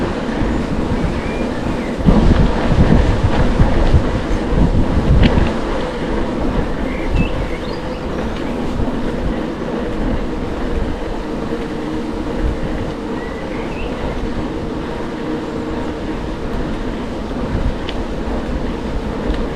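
A local commuter train runs through Oberursel Weißkirchen station in Germany, a loud, close, steady rumble of wheels on rails with rattling cars and faint metallic squeals, sustained throughout.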